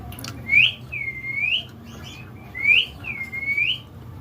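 A green ringneck parrot whistles in two pairs of rising, swooping notes, close and clear over faint indoor background hum.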